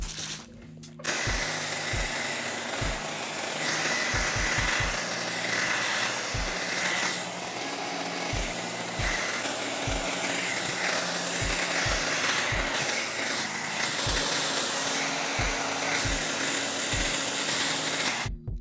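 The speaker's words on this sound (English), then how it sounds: "go in with this hair dryer and get all that extra, space off the wrap gone" A steady, loud blowing whir of a hair dryer runs nearly nonstop, with rapid low thumps and crinkling of plastic shrink wrap underneath as it is heated.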